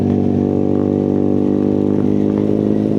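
A motorcycle on a quiet, shaded rural road toward Ciletuh hums loudly and steadily, a close, continuous engine drone with a slight rough clatter and no talk.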